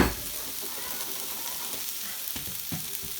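Ginger, garlic and translucent onions sizzle and crackle steadily in a pot, a soft continuous frying hiss with a few stirring clunks toward the end, no voices.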